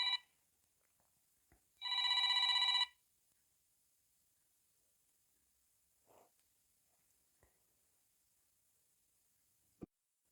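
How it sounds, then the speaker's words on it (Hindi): A phone rings in one short burst of electronic tones during a live stream, then quiet with a few faint clicks and taps; no one speaks. "मुझे कुछ एक्चुअली फ़ोन्स आ रहे हैं बीच में"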